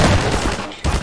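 Gunfire in Half-Life 2 Episode on a rooftop comes as a loud, close burst, then a second sharp blast just before the end.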